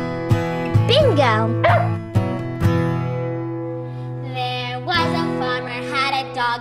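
A cartoon dog barks and yips several times within a sung farmer-and-dog nursery rhyme, the sharp barks landing between sustained sung notes and music.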